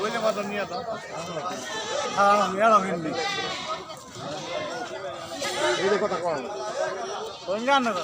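Goats bleat repeatedly at a small goat market in Bhawal Mirzapur, Gazipur, their wavering cries rising over busy crowd chatter and people talking nearby throughout.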